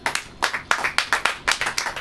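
A church congregation clapping together during a sermon, with a run of sharp, fairly regular claps at close range, loud and without talk.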